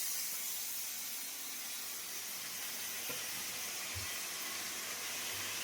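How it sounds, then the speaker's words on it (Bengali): Marinated chicken dropped into a wok gives a steady, fairly faint sizzling hiss, with a soft low thump partway through. "এই চিকেনটা আমি এই কড়ার মধ্যে দিয়ে দিচ্ছি"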